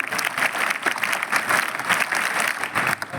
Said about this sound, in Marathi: एक वेळ जोरदार टाळ्या आपल्या आईसाठी